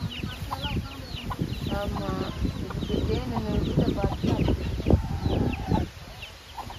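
Sandakozhi chickens, a hen and chicks, cluck softly in the background at a home in Dharmapuri while someone talks over them, with scattered calls and chirps throughout.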